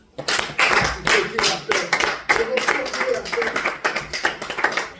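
A church congregation claps together in a fast, steady rhythm, many hands striking in unison, loud and close, with voices singing or calling along underneath.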